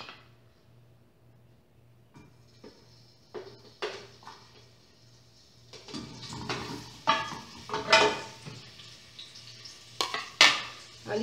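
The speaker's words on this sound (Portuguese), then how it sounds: "Eu tô usando um pedacinho de bacon e uma linguiça calabresa. Eu vou fritar isso aqui primeiro." Bacon and calabresa sausage fry in a pan for lentil soup, starting with a quiet hum before clattering utensils and pan scrapes build, with a crackling sizzle growing louder in bursts.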